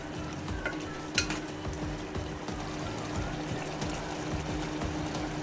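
Eggplant curry being stirred in a pot after water goes in, with steady low scraping and swirling, a soft sizzle underneath and one brief sharper clink of a utensil, all fairly close with no voices.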